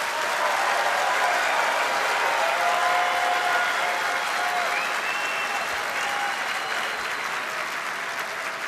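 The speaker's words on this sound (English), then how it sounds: "I want you to give an applause for that demo" A large audience in the Venetian Ballroom in Las Vegas claps loudly and steadily for several seconds at a Demo Jam event, a dense, sustained wash of applause with faint cheers in it.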